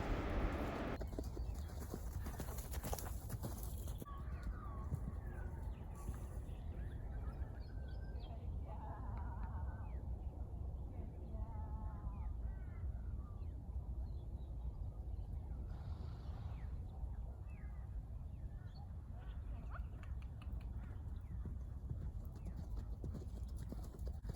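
Hooves clip-clop steadily as a horse is ridden without tack, a regular walking rhythm of soft thuds over outdoor ambience, with a few faint bird calls in the background.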